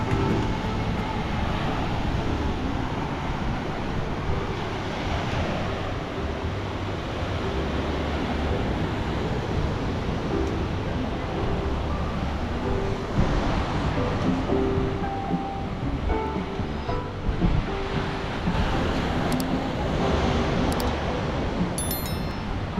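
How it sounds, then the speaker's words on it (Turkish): Ocean waves roll in steadily along a Sri Lankan surf coast, a loud, continuous rushing wash with no clear pauses, heard alone without talk for the whole stretch. "okyanus olduğu için biraz fazla dalgalı."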